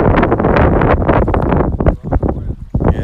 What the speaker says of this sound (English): there's some gusts of wind coming through here